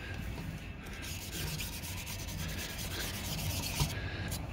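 Steady scrubbing and rubbing as gunk is cleaned off the carriage rails of a Blickensderfer 8 typewriter, a soft continuous friction noise with faint light scrapes, close and alone.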